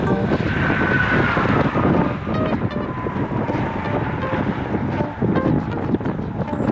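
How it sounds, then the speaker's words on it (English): Strong gusty wind buffets the microphone on a cycling ride in changeable weather, roaring steadily and close with uneven surges throughout. "the wind that we're dealing with. It's pounding from the left and it's swirling around."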